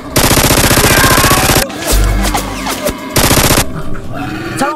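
Toy Nerf guns firing during a Nerf war, with rapid loud bursts of automatic-sounding shots in two long volleys separated by a short gap of scattered noise and faint voices.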